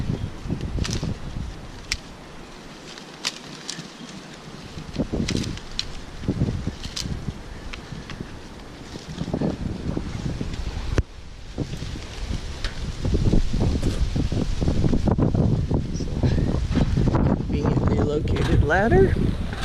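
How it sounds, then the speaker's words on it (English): Gusty wind rushes through a tree about ten feet up where young grafts grow, buffeting the microphone in swelling, roaring waves that strengthen toward the end, with someone speaking over it. "it's definitely got a lot of wind going on here"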